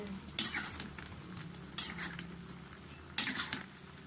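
Pork pata cooking in a pan is stirred with a utensil, three sharp scraping clanks against the metal standing out over a low, steady sizzle close by.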